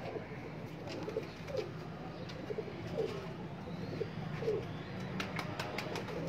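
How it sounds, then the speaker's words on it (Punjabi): Pigeons kept by a fancier coo in a steady, soft stream of low, repeated calls, with faint rustling and chirps in the background and no talking. "ਪਿਪਲਾਂ ਵਾਲੇ ਕਬੂਤਰ ਜਿਹੜੇ ਇਹਨਾਂ ਦੇ ਮਸ਼ਹੂਰ ਨੇ"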